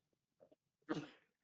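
A single sneeze in a meeting room, with a faint intake of breath just before it and then a loud, brief burst that trails off.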